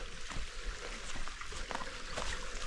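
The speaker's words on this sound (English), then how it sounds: "I can hear that water trickling." Water trickling in a stream at an old waterfall gorge, a steady soft wash of running water heard from some distance, faint and unbroken, with no talk.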